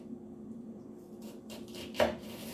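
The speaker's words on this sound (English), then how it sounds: "And these will also be sliced up." A knife cuts through Italian sausages on a board with a few soft, close slicing strokes and one firmer tap at the end, over a quiet room hum.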